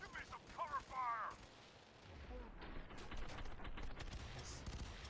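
Gunfire in the F.E.A.R. 3 video game: a brief shouted voice comes first, then a steady, dense stream of rapid shots and impacts continues loudly to the end.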